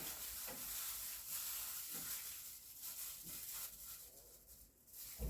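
A spoon stirs yeast into milk in a bowl with soft, continuous swishing and faint clinks, accompanied by a light hiss, with no talking.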